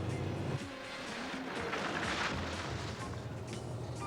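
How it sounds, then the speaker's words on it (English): A 1983 Ford Thunderbird with a six-cylinder engine driving, its steady engine drone and road noise continuous and fairly close throughout, with a brief shift in tone early on. "I can't get over the responsiveness of this six-cylinder engine."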